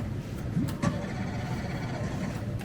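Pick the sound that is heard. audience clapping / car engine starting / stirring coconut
car engine starting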